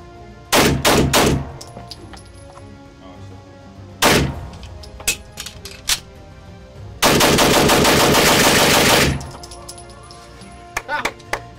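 A suppressed B&T GHM9 9mm carbine fires in close, loud bursts, first a few rapid shots, then several spaced shots, then a long sustained string of rounds, with scattered single shots at the end.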